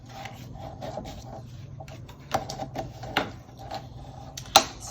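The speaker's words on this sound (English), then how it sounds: "just take your bone folder and press those so they stay nice and flat" A bone folder rubs and presses folded cardstock flat, soft scraping strokes with a few sharper taps and clicks, close and quiet.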